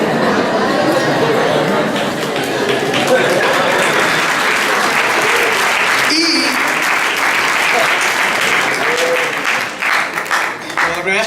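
Sustained applause from a church congregation at a Sunday service, loud dense clapping holding steady for over ten seconds with faint chatter and voices underneath, tapering slightly at the close.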